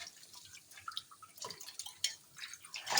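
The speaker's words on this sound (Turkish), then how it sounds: "Onu dök gelsen ben şöyle bir yıkayayım" A small frying pan is washed under a running tap, with scattered drips and splashes of water hitting the metal and sink in short irregular bursts, close by and fairly soft, without talk.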